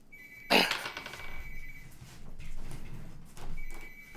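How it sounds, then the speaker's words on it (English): An electronic telephone bell rings in short bursts, a sharp clatter near the start followed by a steady tone, then another ring near the end, with faint background noise between and no talk. "Phone call."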